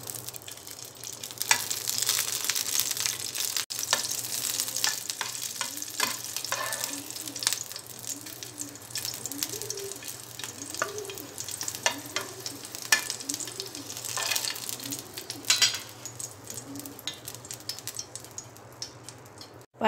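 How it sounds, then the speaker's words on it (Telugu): Green chillies fry in hot oil in a pan on a stove, giving a steady, soft sizzle with repeated scraping stirs and light clicks of a utensil, fairly quiet and close, without speech. "ఆయిల్ వేడైన తర్వాత పచ్చిమిరపకాయలు ఫ్రై చేసుకోవాలి."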